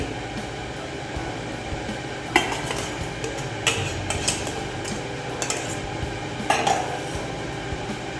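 Egg yolks, sugar and cornstarch being stirred vigorously in a saucepan, a continuous scraping whisk-and-spoon clatter with several sharp metallic knocks against the pot rim.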